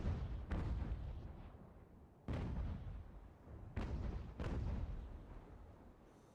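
Naval cannons firing during a sea battle in Ultimate General: American Revolution, several deep booming shots a second or so apart, each with a rumbling tail, fairly distant and muffled.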